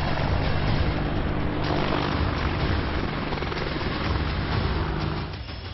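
An Indian Air Force military helicopter flies during an exercise near the China border, its rotor and engine producing a loud, steady droning thrum that eases slightly at the end.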